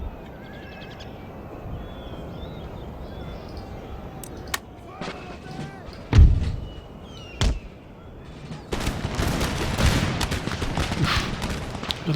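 Empire: Total War musket gunfire and mortar fire on a game battlefield, with a steady ambient battle wash, scattered sharp shots and two heavy low booms around the middle, then denser crackling volleys at the end.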